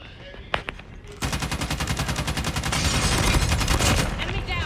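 Rapid automatic gunfire from a ranked online shooter game, a few separate shots followed by a long unbroken burst of fast, loud, close rounds.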